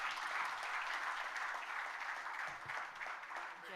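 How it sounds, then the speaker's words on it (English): Steady applause from an audience, a dense patter of clapping hands that holds evenly for several seconds. "A big round of applause, please."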